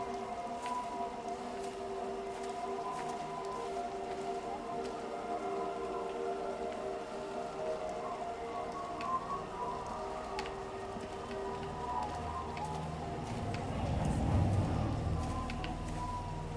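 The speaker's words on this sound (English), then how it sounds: "we got a storm" Steady rainstorm in the video game Everybody's Gone to the Rapture, a continuous soft hiss of falling rain with a low droning tone, swelling into a deeper rumble near the end.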